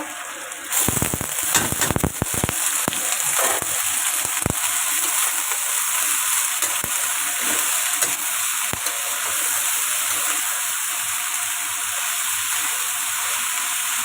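Bean sprouts stir-fry in a hot pan with a loud, steady sizzle, opening with a burst of sharp crackles and pops as they hit the oil, then settling into continuous frying hiss.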